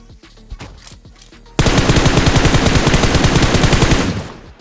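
Rapid automatic gunfire from the BGMI PUBG Mobile video game, a loud sustained burst of shots that starts abruptly after quieter scattered game sounds and fades out at the end.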